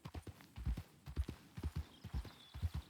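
Horse hooves clip-clop steadily in Red Dead Redemption 2 as a horse walks through the game world, a close, rhythmic series of hoof strikes in small clusters with no talking over them.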